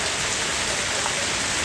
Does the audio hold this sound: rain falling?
yes